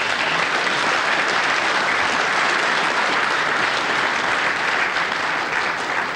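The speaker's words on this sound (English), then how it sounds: "applause for a really splendid break there" Sustained, steady applause from a snooker audience at the 1991 World Championship, Steve Davis versus Ken Doherty, greeting a completed break; dense clapping fills the hall at even loudness throughout, with no talk over it.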